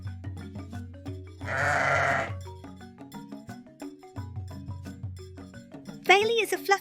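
A fluffy farm sheep lets out a drawn-out bleat, with a second shorter, wavering baa near the end, both set against a bouncy musical backing.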